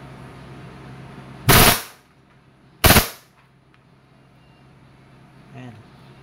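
A WE airsoft Glock 17 fires on full automatic in two short, loud, crackling bursts about a second apart, with near silence between and after.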